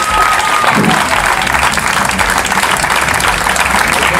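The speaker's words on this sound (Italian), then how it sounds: "Forte applauso lo stesso!" Loud, sustained applause from a crowd, dense clapping that fills the whole stretch without pause.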